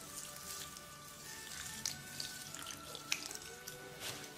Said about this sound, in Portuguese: Adicione a água.